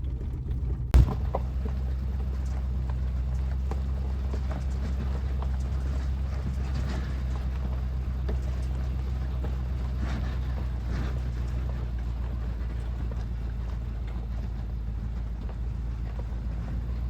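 A vehicle drives down a road near dispersed camping at BBQ Flats in Wenas, Washington, a steady low road rumble and engine drone with wind buffeting, one sharp knock near the start and no voices.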